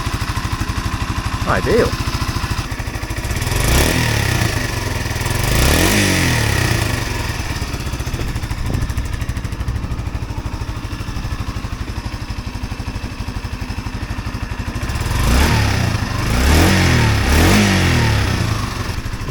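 A Yamaha SR125 motorcycle engine, just back from a carburetor repair, runs and revs throughout, swelling in a few throttle blips near the start and again toward the end, with someone talking over it.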